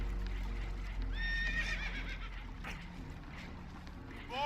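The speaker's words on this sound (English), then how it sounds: "Horses are spooked, and we're taking on water." Spooked horses whinny and neigh in Red Dead Redemption 2 aboard a damaged boat taking on water, several shrill calls rising over steady low rumbling and hoof clatter, with a fresh neigh breaking out at the end.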